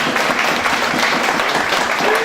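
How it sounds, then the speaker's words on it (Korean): An audience at a political party founding convention claps together in a sustained, dense round of applause that holds at an even level throughout. "박수 한 번만 쳐주세요."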